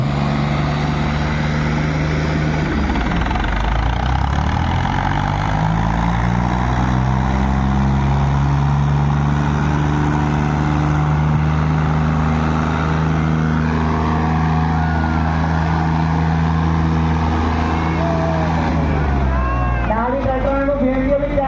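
Massey 9500 and 855 tractor engines roar loudly and continuously at a crowded ground event, their deep drone rising and falling in pitch as the engines rev, with voices talking over them.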